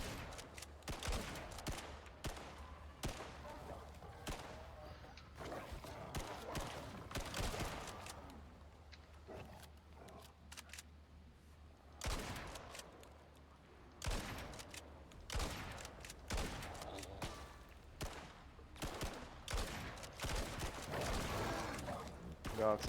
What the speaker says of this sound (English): we'll try the new assault rifle